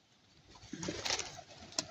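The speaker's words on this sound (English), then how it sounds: "it's quite a lot of birds" Pigeons and doves cooing in a park as they are fed, several soft coos building in the middle and rising near the end, fairly close with a faint rustle behind.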